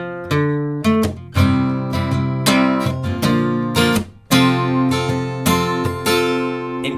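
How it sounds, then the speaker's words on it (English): Strummed guitar plays the G-to-D riff from a song, with bright, ringing chords in a steady down-up pattern, close and loud with no talking. "So that second half of the riff will sound like this."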